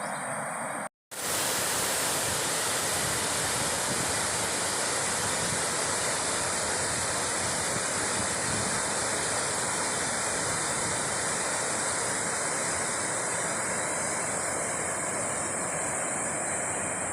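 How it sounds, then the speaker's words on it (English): A fast-moving stream on the Pinhoti Trail makes a steady, loud, broadband rush that continues unchanged throughout, interrupted only by a brief dropout near the start. "That's some fast moving water."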